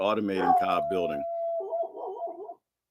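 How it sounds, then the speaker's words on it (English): Dogs on rural off-grid land howl back at distant coyotes, a sustained rising howl with a yippy wavering tail, following briefly after a voice. "so you hear the dogs howling back at them."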